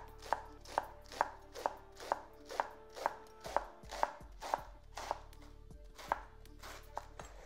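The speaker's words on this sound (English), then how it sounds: "to just get a nice fine chiffonade, as we call it, of cabbage. So straight through the cabbage like so" A very sharp knife slicing straight through cabbage into fine chiffonade, giving a dozen or so crisp, evenly spaced chops in a steady rhythm, close and quiet, with no talking.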